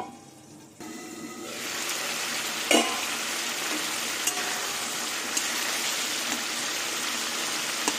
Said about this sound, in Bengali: এবার এই মশলা দিয়ে কষিয়ে নেব।